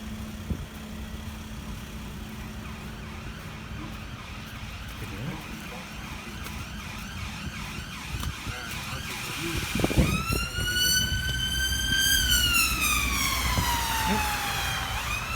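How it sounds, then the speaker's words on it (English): Traffic noise and a low engine hum, then a wailing ambulance siren rises and sweeps up and down from midway, growing louder as it approaches. "Siren going somewhere."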